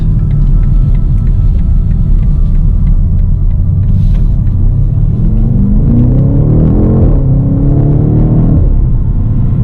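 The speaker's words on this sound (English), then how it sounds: "Lots of sharp crackles and burbles and grumbles from that exhaust." A 2020 BMW X5 M Competition SUV rumbles from the exhaust with a deep, loud, continuous drone, then a rising swell of engine note and a few sharp pops and burbles near the end, heard from inside the cabin.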